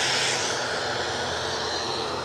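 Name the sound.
Cessna Citation CJ3 Plus business jet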